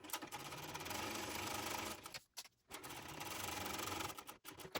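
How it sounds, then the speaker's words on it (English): A sewing machine top stitches along the bottom seam of a shoulder bag, running in a steady close whir, stopping briefly twice and then resuming. "And then top stitch along the bottom."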